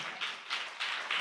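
A church congregation claps hands together in loose, rhythmic bursts, broad and fairly close, with no talk during the clapping.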